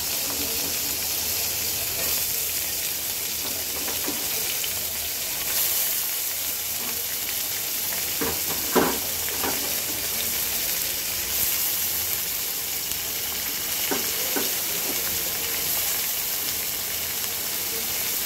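Eggplant, beans, onion stalks and potato frying in hot oil, a steady broadband sizzle and hiss running throughout with a few soft clicks and stirring knocks, close and even, with no talk.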